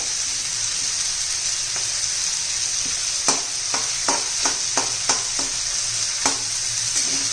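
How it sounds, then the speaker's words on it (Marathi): Ginger-garlic paste with cumin and mustard seeds sizzles steadily in a hot pan, with a spoon scraping and stirring through it in several sharp strokes over the constant frying hiss. "सर्व आता मिक्स करू सगळं व्यवस्थित परतून घेऊया"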